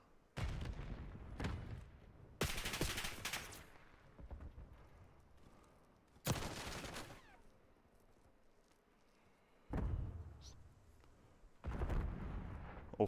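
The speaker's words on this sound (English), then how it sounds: "what a nade there from Epic" Grenade explosion and gunfire in a competitive video game match, several heavy booming bursts spaced a few seconds apart, with quieter clicks and crackles between them.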